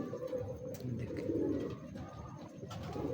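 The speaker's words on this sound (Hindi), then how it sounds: "बहुत अच्छा कबूतर है।" A young two-year-old pigeon coos softly and repeatedly up close, a low murmuring call rising and falling over the whole stretch with no talk.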